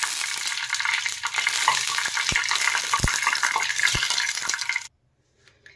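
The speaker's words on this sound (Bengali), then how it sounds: "এই তেলটা পুরোটাকে ছড়িয়ে দেব।" Mustard oil sizzles and hisses as it spreads across a hot pan for an egg curry, a loud continuous crackle with a few sharp taps of a spoon, then it cuts off into near silence.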